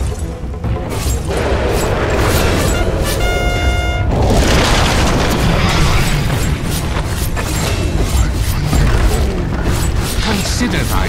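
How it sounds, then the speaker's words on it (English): A deep boom and crumbling rumble mark a Dota 2 middle tower being destroyed, loud and sustained under steady game ambience, with a brief tonal horn-like chime and in-game voices speaking around it. "Dire's middle tower has fallen."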